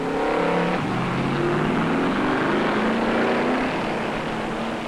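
Stock cars at Charlotte during the 1972 World 600, engines droning loudly and continuously as cars pass nearby, with pitch sliding as they move through.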